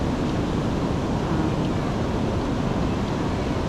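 Strong waves wash against the shore in Zambales, Philippines, a steady, heavy roar of surf with no clear breaks, close and constant across the whole stretch.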